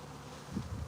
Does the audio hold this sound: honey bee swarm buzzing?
yes